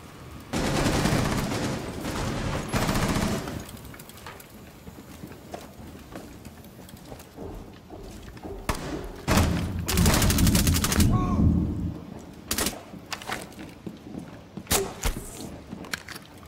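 Rainbow Six Siege gunfire crackles in hard bursts, a sustained automatic volley early, then scattered single shots and another long burst, mixed with footsteps and clatter; no voices during the shots.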